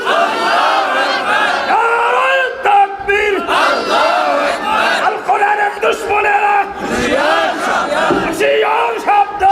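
A large crowd at a Bengali Islamic sermon roars the takbir response in unison, loud and close, rising and falling in repeated chanted waves that fill the whole stretch.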